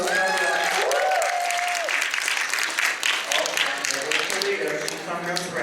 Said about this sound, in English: Clap it up for the last